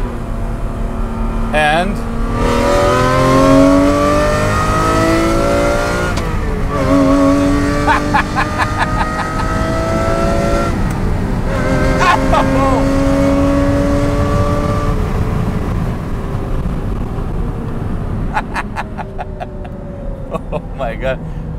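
Ferrari engine heard from inside the car with the window open, revving hard and dropping a gear, with rising and falling rev sweeps and sharp shift breaks, loud and close, while a person speaks briefly.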